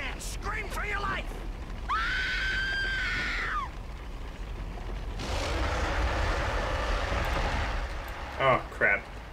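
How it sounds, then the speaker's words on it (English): Screaming in the King Kong video game: a sustained high-pitched scream followed by a rough, noisy roar-like burst, with brief voiced sounds at the start and end, loud and close. "Scream and scream for your life!"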